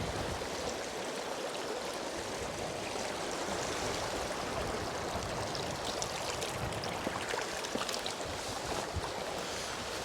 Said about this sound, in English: it looks like we've got a river crossing